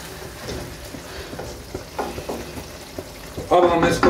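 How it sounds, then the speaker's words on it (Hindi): Chicken rezala frying in a pan as it is stirred and browned before slow cooking, a steady sizzle with scraping stirs that swells louder near the end. "अब हम इसको एक आध मिनट और भून के फिर हम इसे दम पे रख देंगे।"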